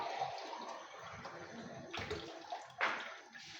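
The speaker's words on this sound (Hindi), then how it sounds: "चले जी, पानी डाल देती हूँ इसके अंदर।" Water is poured from a glass into a cooking pot for boiling rice, a close splashing and gurgling rush with a couple of brighter surges as the stream hits the water.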